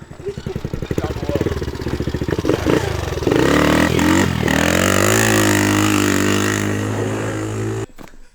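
A fully built Nissan SR20 engine cold-starts with clattery cranking, then catches and revs loudly, holding a steady high idle close by before cutting off abruptly near the end.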